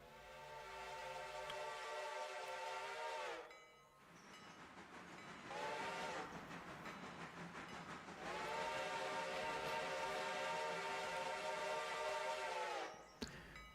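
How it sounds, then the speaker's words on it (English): A passenger steam train pulls into a station in the Railroader game, its whistle sounding in three long harmonic blasts separated by brief gaps over a soft rolling rumble. "I can hear our passenger trains coming in here as well."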